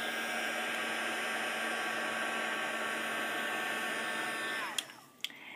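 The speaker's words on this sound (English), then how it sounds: "hit it with your heat tool." A heat tool blows hot air steadily over colorless blender ink, a loud, even broadband whoosh with a faint whine that runs unbroken and then cuts off near the end, followed by a couple of sharp clicks.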